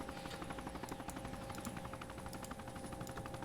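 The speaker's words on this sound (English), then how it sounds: "I hear the hijacker chopper." A hijacker helicopter approaches in a video game, its steady rotor chop running continuously at moderate level throughout, with a dense rapid rhythmic beat and no talk.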